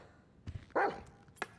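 A dog in GTA Online gives a couple of short, close barks, with a quieter yip at the end, over a low game background.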